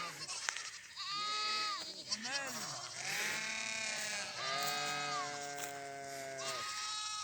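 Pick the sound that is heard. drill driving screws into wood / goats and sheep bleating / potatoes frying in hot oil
goats and sheep bleating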